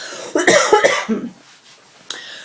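A short burst of harsh coughing, two or three close hacks, followed by a brief quieter cough after a pause.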